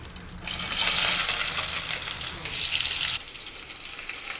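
Onions dropped into hot oil with mustard seeds and cumin, a sudden loud burst of sizzling that swells, holds and then drops to a quieter steady fry near the end.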